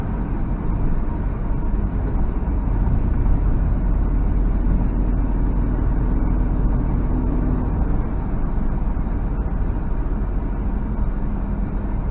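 Interior drive of a 1990 Nissan Fairlady Z Twin Turbo, with a loud, steady engine and road drone holding constant throughout and no voices.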